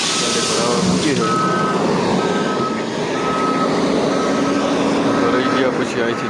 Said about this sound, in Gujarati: ગાડી ભરાવા મૂકી છે.